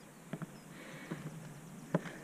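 Quiet, frosty morning ambience beside a canal at Little Bedwyn, with a few soft, irregular thuds and snorts from horses shifting nearby in a field.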